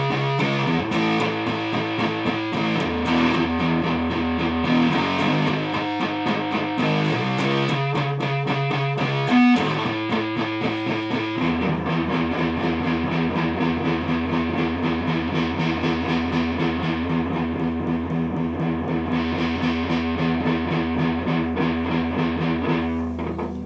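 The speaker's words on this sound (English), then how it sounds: "This is the distortion, and this is the hardest distortion." An electric guitar played through a hard, heavy distortion pedal rings out in loud, dense chords and riffs, shifting between chugging passages and sustained saturated notes, close and with no talk throughout.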